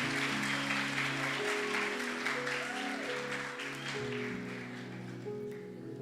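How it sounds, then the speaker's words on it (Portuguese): Church congregation applause at a youth worship service, a steady wash of clapping with sustained music tones underneath, fairly faint and even throughout. "Então aplauda Jesus pela vida da Monique."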